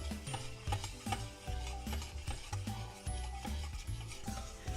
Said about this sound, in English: Now we're gonna whisk this until the custard on the inside thickens